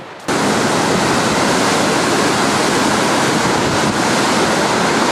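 Flood water, churning with mud, rock and uprooted trees, roars down a mountain river as a loud, constant broadband rush that starts abruptly and continues unbroken.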